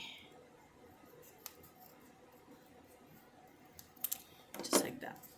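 Scissors snip through paper for small craft tombstones in a few quick, close cuts near the end, after a stretch of quiet room tone and a faint earlier click.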